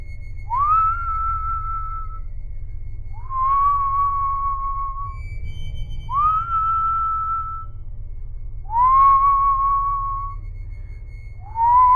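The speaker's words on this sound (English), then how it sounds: "The whistle started again." Someone whistles a repeated rising note, five times with pauses between, over a low steady hum.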